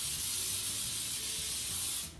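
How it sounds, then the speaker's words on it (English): Baking spray hisses steadily onto a baking pan in one short, close burst lasting about two seconds, then cuts off. "you want to take some baking spray and spray your pan"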